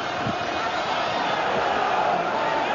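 A sold-out boxing arena crowd of 11,000 roars steadily throughout, a dense continuous wall of cheering with no pauses.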